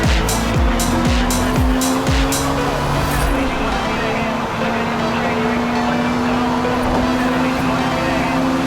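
A 1997 Honda Civic Type R race car at Laguna Seca, its engine roaring loud and close through gear changes, with tire squeal and a voice talking over it.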